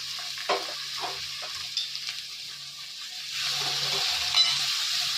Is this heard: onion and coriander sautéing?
yes